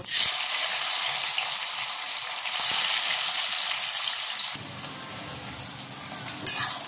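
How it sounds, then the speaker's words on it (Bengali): Paneer pieces frying in hot oil in a kadai make a loud, continuous sizzle close by; the texture shifts partway through, with a few light clinks and spatters near the end. "এবার পনিরগুলোকে ভেজে তুলে নেব"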